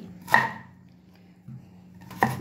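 Knife chopping mango and apple into pieces on a board for a mixed fruit shake, two distinct sharp chops with a soft tap between, close by and alone without talk.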